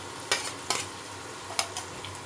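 Grated boiled potato and filling for potol chop stirred in a frying pan, a few distinct scraping stirs over a soft, continuous sizzle.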